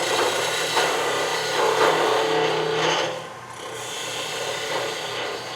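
A woodturning gouge peels a cut on a spinning natural-edge wooden goblet on the lathe, giving a continuous close rasping shear over the motor hum that drops away briefly before resuming.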